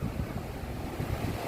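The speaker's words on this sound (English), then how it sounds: "the waves are not as rough" Gentle ocean waves at low tide on Boracay beach, a steady wash of surf with wind noise, continuous and fairly soft with no voices.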